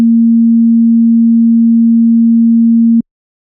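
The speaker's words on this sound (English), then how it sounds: "something that mathematicians would call a sine wave." A pure sine wave tone holds one steady low pitch for about three seconds, loud and perfectly even, then cuts off abruptly into silence.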